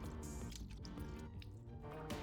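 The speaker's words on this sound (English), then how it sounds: "you can kind of hear like the bowl or whatever is like splashing around there" Liquid in a bowl splashes and drips in a short, quiet burst of wet slaps and drops, as a sound effect in a weekend-made video game, with no voices.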